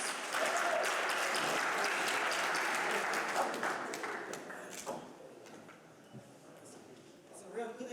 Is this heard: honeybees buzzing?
no